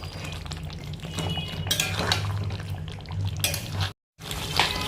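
Shahi chicken in white gravy with ground black pepper gets stirred in a pot, a spoon clinking and scraping against the metal with a soft wet churn, broken by a brief silent gap.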